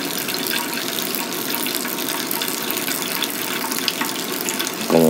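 Hot water for pour-over coffee extraction streams in a steady, continuous gurgling pour, moderately close, with no talking over it.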